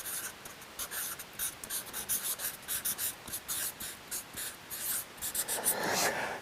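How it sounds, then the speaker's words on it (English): Marker or chalk writing on a board, a series of quick close scratchy strokes in irregular bursts, with a few longer rubbing strokes toward the end. "I'll just write it here"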